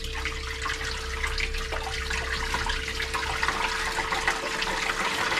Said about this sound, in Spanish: Entonces vamos a echarle agua aquí.